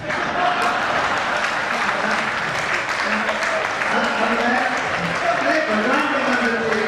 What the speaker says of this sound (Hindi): उन्होंने जो सलाह दी है उस पर आप तालियां बजा देना